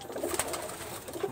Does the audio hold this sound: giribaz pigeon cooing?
yes